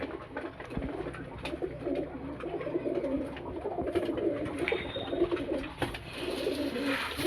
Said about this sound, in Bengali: কাকুর লফটে বিকেল টাইমে কবুতরকে খাবার দেয়।